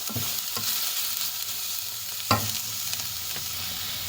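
Bread kottu frying in a pan with chili powder being stirred in: a constant sizzle with a few scraping strokes of the spatula, one louder knock near the middle.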